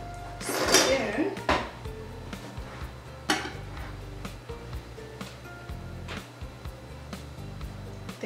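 A spoon scrapes and clinks against a dish while stirring BLT macaroni and cheese, producing intermittent close, soft knocks and scrapes beneath a steady low background hum.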